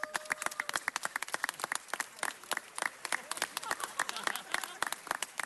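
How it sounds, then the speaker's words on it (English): Audience applause fills a city council meeting chamber as honorees are recognized: a steady patter of individual claps, moderately loud, with crowd noise underneath. "please stand up and applause, not just for me, but for all the honorees"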